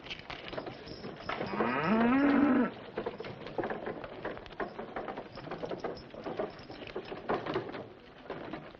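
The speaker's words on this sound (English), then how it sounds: "I'll milk the cow." A cow lets out one long, loud moo near the start, rising and wavering for about a second, followed by quieter rustling and outdoor ambience.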